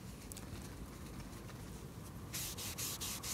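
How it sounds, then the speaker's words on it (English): Residue is wiped off a blue-black Arkansas sharpening stone, producing a steady close rubbing hiss that turns into a few brighter, louder scrubbing strokes near the end. "Just going to clean some of this load up off of the stone."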